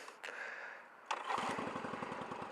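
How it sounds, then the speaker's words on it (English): A motorcycle engine cranks and catches at close range, then settles into a steady, rapidly pulsing idle that runs to the end without any talk. "if you want to, crank the bike up"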